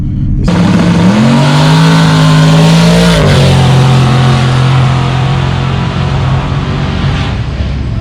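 A loud Mustang GT engine roars up close at a drag race, pitch climbing as it accelerates hard, then settling into a steady high drone as it speeds away.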